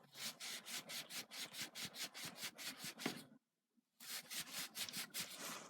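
Close, rapid back-and-forth scrubbing of a one-way bearing starting cam with a Scotch-Brite pad, steady rhythmic rasping strokes broken by a brief pause before resuming.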